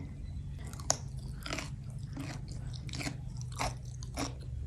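Broccoli with mala seasoning is chewed close to the mic, with about seven crisp crunching bites in a steady rhythm and no talking.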